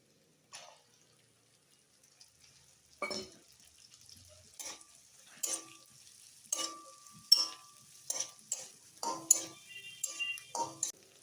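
Sliced onions tipped into a hot pan for chili soya chunks begin to sizzle, with a run of scraping spatula strokes and clinks against the metal growing busier toward the end, close and fairly quiet.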